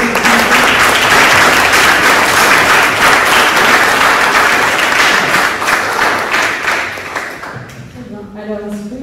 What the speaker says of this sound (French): merci à tous les quatre, on peut les applaudir.